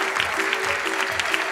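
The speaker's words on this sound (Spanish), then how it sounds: "un aplauso grande" Applause from an audience greets artisan weavers at an Andean fashion show, a steady wash of clapping hands filling the whole short stretch with a faint tonal hum beneath.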